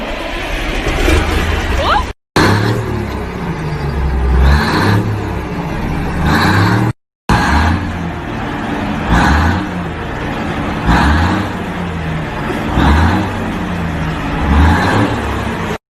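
Custom-painted pickup truck with redone upholstery, engine revving loudly and close in repeated surges with a rhythmic low rumble, briefly cut out twice.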